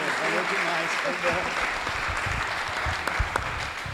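A church congregation applauds with dense, steady clapping that fills the room. A voice is heard faintly at the start, and the applause carries on for several seconds.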